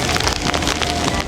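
Steady rain pattering on a nearby surface, a dense continuous patter with occasional louder drops and no voices.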